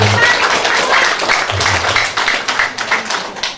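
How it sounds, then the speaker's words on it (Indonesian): Applause from a gathered audience at a neighbourhood ward competition presentation in Dumai, Indonesia, a steady dense clapping with a faint low voice underneath. "Tepuk tangan dulu."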